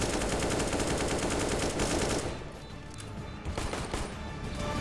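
Rapid gunfire in CS:GO, dense automatic shots for about two seconds, then quieter scattered bursts that pick up again toward the end.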